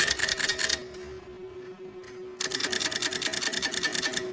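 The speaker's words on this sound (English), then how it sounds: "Here is the mechanism ratcheting the wipers up 4 levels, and across 9 positions." Electromechanical telephone exchange stepping switch ratcheting its wipers up four levels and across nine positions: rapid mechanical clicking bursts, loud and close, with a brief quieter pause in the middle before the ratcheting resumes.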